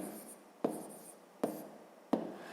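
A pen writing out a division remainder for a fifth-grade math exercise, three short distinct scratchy strokes spaced under a second apart, close and quiet, with no speech.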